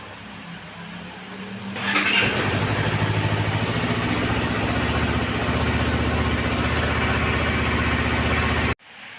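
Honda CBR250RR motorcycle engine started and left idling to warm up before an oil change, with the starter catching after a couple of seconds and then a steady, loud, even idle that runs until an abrupt cut.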